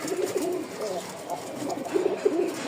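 A pigeon with a crest and heavily feathered feet coos in a steady series of close, throaty calls, with short pauses between the phrases.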